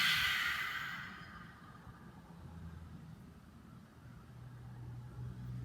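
A deep exhale through the mouth during a yoga cool-down, a loud breathy rush at the start that fades into quiet room tone, with a low hum lingering beneath.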